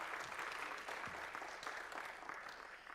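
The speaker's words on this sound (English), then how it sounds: "This is where we all clap." Audience applause at the opening of a World Bank infrastructure conference in Rabat, Morocco, a continuous but fairly faint wash of clapping from a large room.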